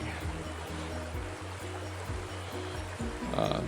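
A creek flows steadily with a continuous rushing wash and soft low bumps, heard up close outdoors on an autumn fishing outing, with no voices.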